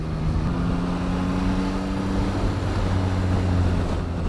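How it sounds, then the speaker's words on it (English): Yamaha MT-09 motorcycle engine with stock exhaust and audible airbox intake, a steady droning hum with a tonal note held at cruising speed, mixed with constant wind rush on a tarmac road. "I think I like the sound of this engine better too. Even with the stock exhaust, with that airbox sound, it sounds so good."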